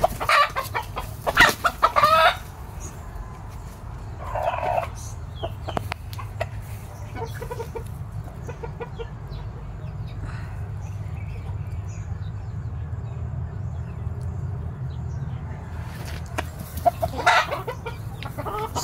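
Fighting gamecocks cluck and call repeatedly in bursts over a steady low background hum, with a louder flurry near the start and more clucks toward the end, close by and without talk.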